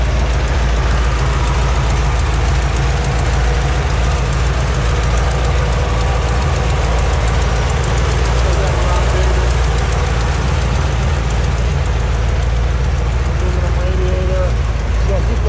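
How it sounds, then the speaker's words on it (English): A 1964 Chevrolet Impala SS with a 409 V8 idles in neutral, a loud, steady low rumble that holds unbroken throughout, heard close with someone talking over it. "Engine sounds fantastic."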